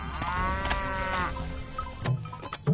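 Water buffalo mooing in a Hindi cartoon story, a long, drawn-out low bellow followed by softer snorts and shuffling noises, close and clear with no talking.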